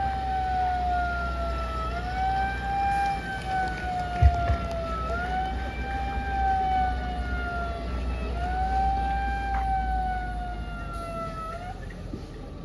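A police vehicle siren wails, rising and falling in long repeated sweeps, loud and steady for the whole stretch, with a low engine rumble beneath it, during a riot drill.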